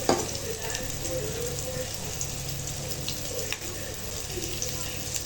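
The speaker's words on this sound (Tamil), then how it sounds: "இப்போ இதை நல்லா வதக்கிக்கலாம்." About eight small onions, each cut in two, sauté in hot oil for restaurant-style curd rice, a steady close sizzle with occasional stirring scrapes that runs continuously throughout.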